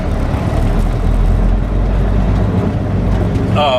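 A flatbed truck's engine drones loudly and steadily from start to finish on a rough road, a rumbling ride with a short clicking rattle right at the end.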